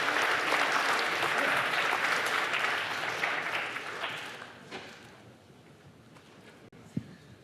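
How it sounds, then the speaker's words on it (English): Loud applause from a large audience at a technology summit that gradually fades out, with a sharp thump near the end. "give him a warm round of applause"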